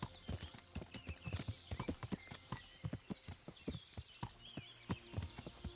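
A ridden horse's hooves clip-clop in a quick, steady rhythm on the ground in the medieval game Kingdom Come: Deliverance, fairly close and continuous throughout, with no talk over it.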